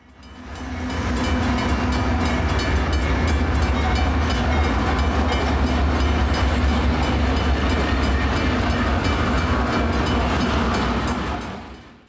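Train locomotives of a light power move approach the Hopkins Street railroad crossing in San Marcos on a rainy morning, a loud, steady rumble and clatter building and holding for about twelve seconds before easing off.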